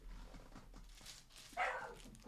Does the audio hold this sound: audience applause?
no